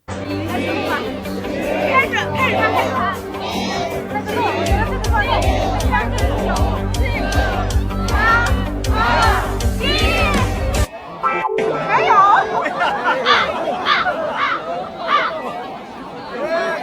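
A large crowd chatters and murmurs at the Asian Games opening in China, a dense babble of many voices close around, with a steady low hum through the first part that cuts off sharply near the end.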